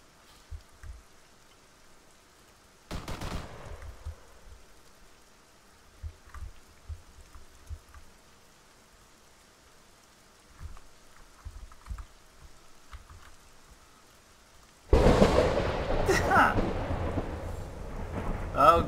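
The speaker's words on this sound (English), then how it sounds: "It's a lightning storm!" A video game lightning storm brings sharp thunder cracks, one early and a loud crash near the end. Rain hisses in with the final strike, and small rumbles and taps fill the quieter stretch between.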